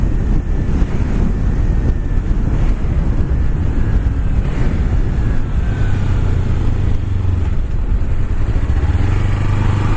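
A Kawasaki Ninja 300 fitted with Woodcraft clip-ons, heard on the move as a steady engine drone mostly buried under heavy, loud wind rush across the microphone, with the engine pitch shifting slightly near the end.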